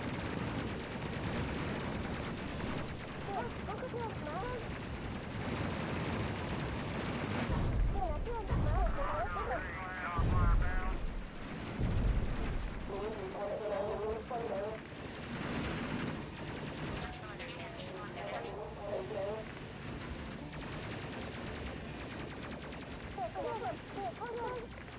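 Automatic and rapid gunfire from a crew firing on a boarding party aboard a ship in the Space Crew video game, dense and continuous through the clip with game effects layered over it.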